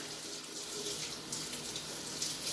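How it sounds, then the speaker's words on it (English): Warm tap water runs steadily into a sink as lathered hands are rinsed, a continuous close splashing hiss with no talking. "You want to rinse them off with warm water."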